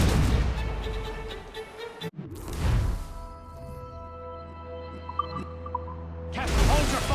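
Ship cannons firing in Assassin's Creed Rogue during a naval battle. Loud booming bursts open and close the passage, with a long rumbling tail and scattered cracks between them. Shouted commands come over the din.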